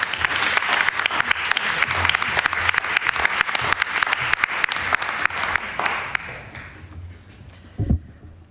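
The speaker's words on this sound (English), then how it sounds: "A warm applause." Warm audience applause at a literary evening in Amsterdam, dense rapid clapping that holds steady, then thins and fades out, ending with a faint bump or knock.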